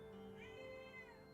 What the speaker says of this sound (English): Cat cameo, I guess?